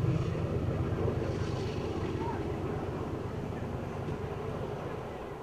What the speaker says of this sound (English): here comes a train, as you can hear in the background